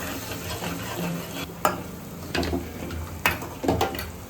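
Turmeric and salt are stirred and fried in oil for a Maharashtrian misal, giving a close sizzle with several distinct scrapes and knocks of a spoon in the pan.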